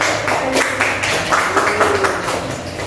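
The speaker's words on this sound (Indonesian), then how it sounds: "Beri tepuk tangan dulu." A classroom of pupils applauds, a dense, steady patter of many hands clapping together close by, continuous for a few seconds with no talking over it.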